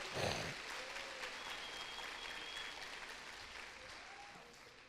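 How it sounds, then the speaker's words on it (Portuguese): A church congregation applauds during a Pentecostal-style sermon, giving a steady, continuous wash of many hands clapping that stays faint and distant throughout. "Dá uma salva para o Deus Espírito Santo, salva de palmas."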